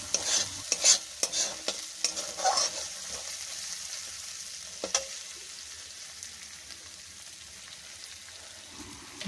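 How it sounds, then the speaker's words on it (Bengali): Spice paste with tomatoes is stirred and fried in a pan, with sharp spoon scrapes and knocks over a crackling sizzle near the start that gradually settles into a softer, steady frying hiss. "মশলা যাতে পুড়ে না যায় সেই জন্যে আমি মশলাটাকে ক্রমাগত নাড়িয়ে যাব"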